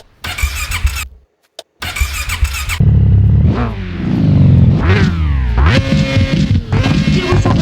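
Buggy engine in the video game Mon Bazou cranking and catching, then revving up and down several times with rising and falling whines, loud and close with no talking.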